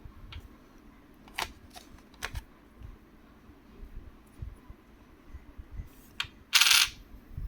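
Coins, including Indian 20 rupee pieces, are handled and shuffled, giving scattered metallic clicks and clinks over several seconds that end in a louder, brighter jingle near the close, with no talking.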